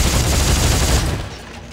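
Rapid automatic gunfire in the sci-fi horror game Dead Space 3 comes as a loud, dense burst of shots that fades out near the end, with no talking.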